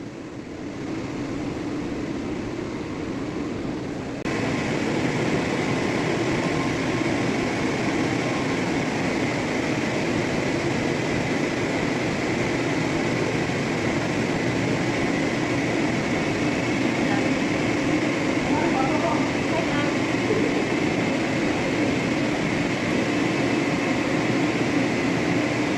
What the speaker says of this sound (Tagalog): Ang blower machine mga Kabs ay ginagamit ito lalo na pag nagwawax.